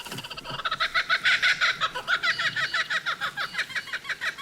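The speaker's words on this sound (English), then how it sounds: "Laughing kookaburra." Laughing kookaburra calling in the bush, a loud rolling chorus of rapid, rhythmic cackling hoots that swell and pulse steadily throughout, with other forest birds faintly behind.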